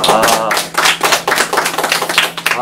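An audience claps at a Korean talk show on the digital divide, a dense patter of hands that rises and dips loudly and near across the whole stretch.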